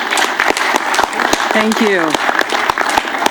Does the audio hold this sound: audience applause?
yes